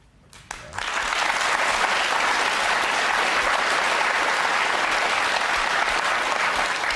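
A studio audience on a BBC Question Time panel debate breaks into loud sustained applause, starting abruptly after a brief moment and continuing as a dense, even wall of clapping with no voices over it.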